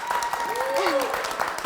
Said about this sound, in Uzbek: Buni qarang, Sherzod aka deganlar qarsakiylar